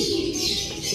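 Soft, continuous bird cooing close by in a Philippine outdoor setting, a low murmuring call running throughout against a hissy background.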